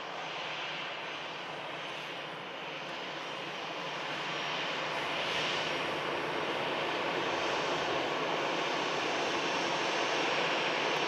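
A KLM airliner at Manchester Airport, its engines giving a steady broadband roar from the runway that swells gradually louder over the span, with no talking.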